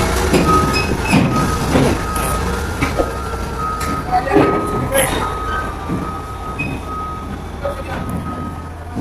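Trucks in Saudi Arabia hauling three bulldozers toward Hail, with a steady electronic reversing beep repeating over a continuous engine rumble, while people talk nearby.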